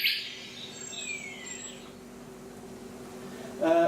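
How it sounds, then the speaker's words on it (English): Nightingale chorus in Spain: a bright, busy whistling song near the start, then thinner calls fading into a quiet background with a steady faint drone, and a louder burst of song returning at the end. "So this is a nightingale chorus in Spain."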